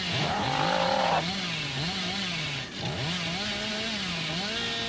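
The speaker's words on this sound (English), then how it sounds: "My chainsaw's almost run out." Billy's chainsaw in the video game Dead by Daylight revs loudly and continuously, its engine pitch swooping up and down in repeated surges with a brief dip midway, heard alone without talk.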